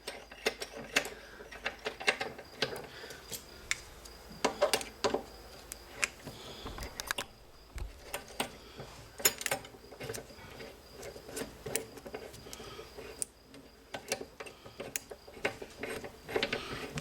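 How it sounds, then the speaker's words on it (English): A center bolt being removed from a Dillon RL-550B reloading press, giving close, intermittent metallic clicks and ratcheting taps with short pauses between them. "the next thing we're going to do is take out this center bolt"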